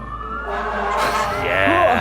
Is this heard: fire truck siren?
yes